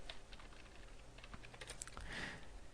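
Someone types a code loop on a computer keyboard in a quiet room, producing a soft, faint, irregular patter of keystrokes with no talking.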